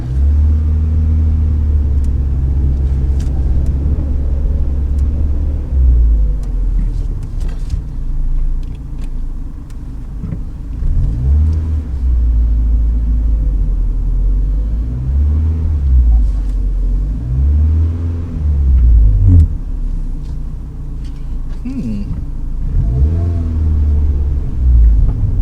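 Scarlet, a project car, starts for the first time and settles into a deep, steady engine rumble, the idle wavering with periodic rises and dips as the engine is blipped, sustained for over twenty seconds with no talk.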